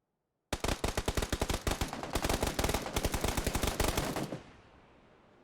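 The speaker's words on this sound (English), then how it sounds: "DA shooting at AV right now." Rapid bursts of automatic gunfire crackle loudly and densely for about four seconds in a PUBG console league match, then cut off into a fading tail.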